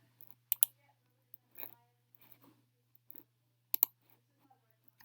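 Computer mouse clicks close by in a quiet room, a couple of sharp double clicks spaced several seconds apart with faint handling noise between them over a low hum.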